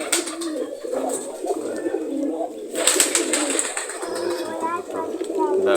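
Several pigeons coo softly and repeatedly nearby in a steady rolling rhythm, with a person's voice talking over the birds.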